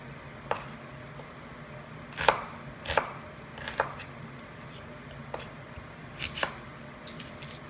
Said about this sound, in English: you need to chop them roughly for the sambar